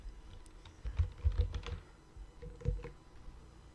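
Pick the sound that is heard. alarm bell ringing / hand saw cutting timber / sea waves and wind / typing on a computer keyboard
typing on a computer keyboard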